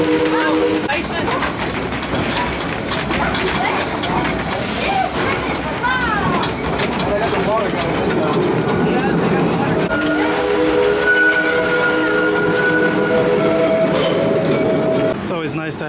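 An amusement park train ride at a Six Flags park rumbles along steadily and loudly, with rolling rail noise, whistle-like tones and excited riders' voices and chatter throughout.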